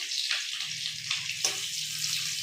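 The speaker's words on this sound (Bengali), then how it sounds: "এই মাছের ডিম ভাজা।" Fish roe frying in a pan gives a steady, close hiss and sizzle throughout, with a few brief splashy bursts over a low hum.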